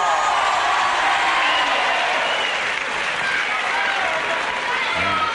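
Crowd at a professional wrestling match applauding and cheering, a dense, steady roar of clapping that stays loud throughout.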